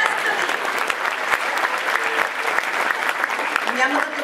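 Steady applause from an audience at a kindergarten event greeting a small child. The clapping is dense and continuous, with a few voices faintly underneath.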